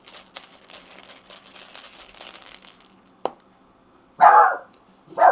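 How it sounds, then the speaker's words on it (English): Dogs bark inside a house, two loud close barks near the end following a sharp knock, with quieter crinkling and rustling sounds earlier. "they're just barking"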